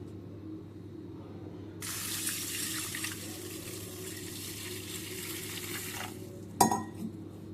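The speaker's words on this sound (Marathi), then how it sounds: "मी आता याच्यामध्ये एक ग्लासभर पाणी ओतते" Water pours steadily into a bowl of soaking moth beans for about five seconds, then stops, followed by a soft knock of a container being set down.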